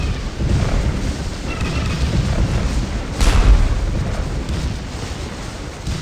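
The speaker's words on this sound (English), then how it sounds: "allowing our guns to turn about and face the final Union regiment on this side of the ridge, blasting canister into their backs" Civil War cannons firing canister at Gettysburg in a strategy game, a deep booming blast swelling out of a rumbling battlefield din, followed by a lingering low roar.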